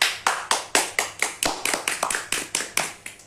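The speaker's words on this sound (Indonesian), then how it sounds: "Oke, tepuk tangan dulu." Hands clapping in a steady series of about a dozen sharp, evenly spaced claps, close and distinct, sounding like a single person or small group keeping rhythm rather than broad applause.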